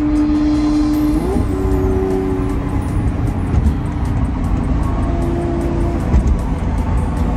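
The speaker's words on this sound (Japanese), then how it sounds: "高速道路のランボルギーニのエンジンサウンドを聞きましょうか" A Lamborghini cruises on a busy highway in third gear, its engine a loud, steady drone with a sustained tone that shifts pitch slightly as it runs.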